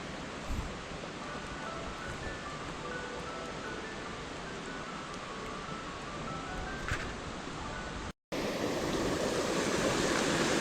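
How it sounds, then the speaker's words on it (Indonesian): Hot spring waterfall on a mountain, a steady broadband rush of falling water that fills the scene at close range, briefly cut then resuming louder and rougher. "itu suara air terjunnya coy"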